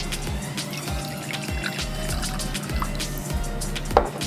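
Small amount of water poured into a stir-fry sauce mixture for chicken and broccoli, a soft liquid trickle and dribble with light drips, close and steady, with no talk.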